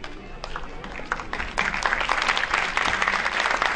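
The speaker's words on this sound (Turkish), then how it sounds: "Çocuğunuza alkışlıyorsunuz" Parents in the audience applaud children at a kindergarten year-end show, clapping that starts scattered and builds into fuller, denser applause as it continues.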